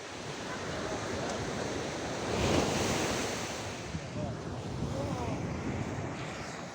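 Steady roar of sea waves breaking on the shore with gusting wind, a continuous broad wash that swells slightly midway, close and fairly loud with no clear talk.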